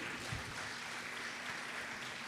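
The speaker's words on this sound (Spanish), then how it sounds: "De un fuerte aplauso a nuestro Dios" A church congregation claps at a worship service, a faint, steady patter of many hands heard from a distance with a low hum beneath.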